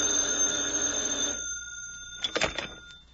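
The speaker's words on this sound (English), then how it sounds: "when my phone rings" An old telephone bell rings loudly in a sustained burst that stops abruptly, followed by a short rattling clatter, with no talking.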